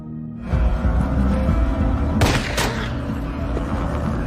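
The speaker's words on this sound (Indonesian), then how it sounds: "Hiro lalu menembak anak buah Roxanne yang tadi sudah membunuh Annie" Gunfire erupts in a shootout, a dense fusillade of sharp bursts with a couple of loud cracks over rumbling booms, continuous and close.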